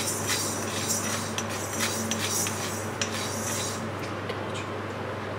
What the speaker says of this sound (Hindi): और जीरा और इसे एक मिनट तक मीडियम फ्लेम में भून लेंगे।